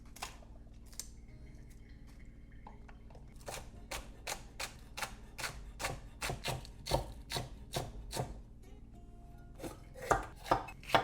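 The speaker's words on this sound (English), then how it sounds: "So I'm going to try and chop it into small pieces." A knife chops vegetables into small pieces on a board, a run of steady close knocks that quicken and grow louder toward the end, with no talk over them.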